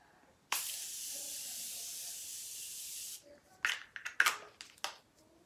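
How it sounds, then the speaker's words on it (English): Makeup setting spray misted over a face in one long close hiss of about three seconds, followed by several short soft patting and rustling sounds. "I like to go in with setting spray all over."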